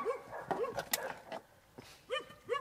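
A dog barks several times in short, close yips and woofs with gaps between them, each bark rising and falling in pitch, with no speech.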